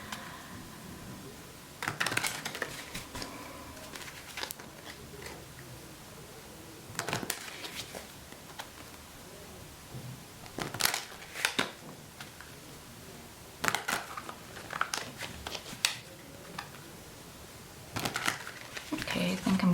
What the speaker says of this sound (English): Not particularly fussed watching me shuffle.